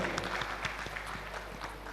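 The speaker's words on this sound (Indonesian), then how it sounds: "Tepuk tangan yang meriah buat beliau." An audience at a traditional arts guidance gathering in Tulungagung claps for a speaker, giving steady, dense applause that lasts the whole moment, with crowd noise and a low hum behind it.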